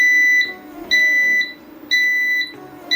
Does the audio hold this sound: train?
no